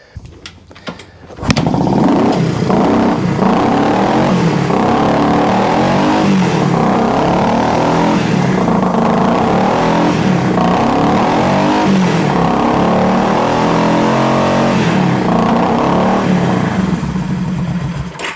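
A vintage motorcycle engine that has just fired up for the first time after a carburettor cleaning, running loud and close with an uneven, surging idle for most of the clip after a brief quiet lead-in.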